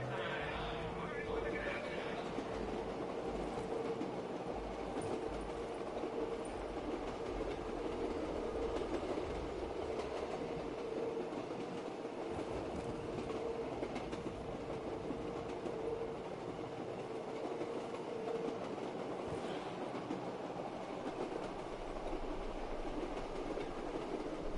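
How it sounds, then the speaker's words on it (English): Train riding in a PS4 video game: a steady, loud rumbling roll of rail wheels and carriage noise that continues throughout, with a faint tonal hum and voice speaking over it. "Maybe I should just keep riding the train."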